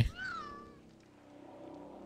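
A ghost cat in a video game lets out a single drawn-out meow with a falling pitch, fairly quiet and alone, followed by a low hum from the game.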